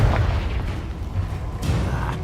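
A Confringo spell blast in the Hogwarts Legacy video game, heard as a loud, rumbling boom with low-end crackle that holds steady through the whole moment, with another burst flaring near the end.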